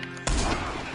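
A single loud, close gunshot from a gun in the video game Red Dead Redemption 2, a sharp crack that rings out and decays after a brief quiet lead-in.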